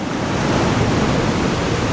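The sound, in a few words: ocean waves breaking on the beach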